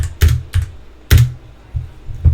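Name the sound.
keyboard arrow key and space bar presses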